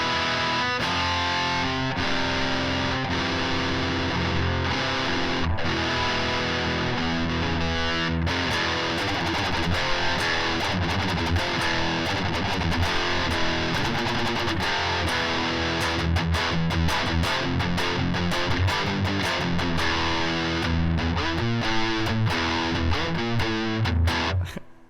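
An electric guitar played through a Rodent distortion pedal modeled on a Tone Master Pro churns out heavy, saturated palm-muted riffs and chugging chords, loud and continuous, ending with an abrupt cutoff.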